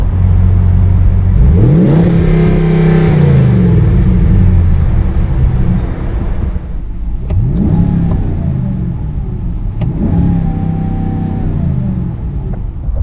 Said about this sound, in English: The engine sounds really nice, really fruity.